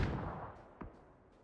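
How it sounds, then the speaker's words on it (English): A grenade explosion in the video game PUBG, a distant boom that fades away, followed by a second, sharper, fainter blast. "Nades over the top."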